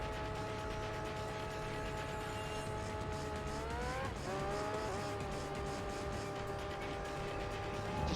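Steady high-pitched whine of an LMP race car engine held at nearly constant revs in Gran Turismo 3, with one brief pitch dip and recovery midway. It runs continuously and loudly, with no talk over it.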